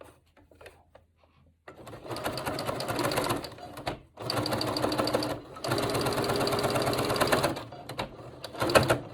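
A sewing machine stitches a fabric scrub hat in three close, steady runs of rapid mechanical whirring and clatter, separated by brief pauses, with faint handling sounds before the first run.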